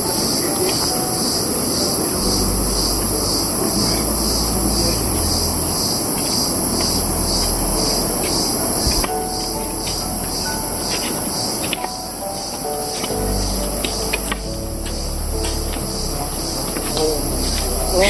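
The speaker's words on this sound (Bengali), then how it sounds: "চলার শব্দ আর ঝিঝি পোকার শব্দ।" Crickets chirp continuously in a mountain village at night, a dense, steady high trill running throughout with faint footsteps and rustling underneath.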